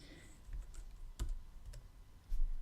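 Soft clicks of typing on a computer keyboard to enter a number into a game-scoring box: a few scattered, close keystrokes over a quiet background with no talking.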